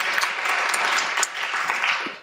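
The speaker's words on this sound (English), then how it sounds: "Give this woman a round of applause." Audience applause for a panelist at a women's empowerment panel, a full, steady burst of many people clapping, fairly loud and sustained for about two seconds with no talking.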